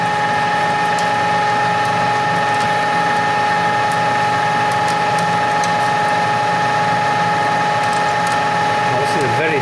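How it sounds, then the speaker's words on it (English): A metal lathe taking a deep cut on a drawbar with coolant applied, producing a loud continuous mechanical drone with layered steady hum tones and faint intermittent ticks, close and unbroken throughout. "Oh, this is a very deep cut. I can feel it straining now."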